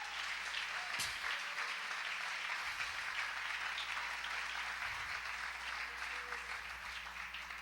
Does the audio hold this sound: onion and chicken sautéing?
no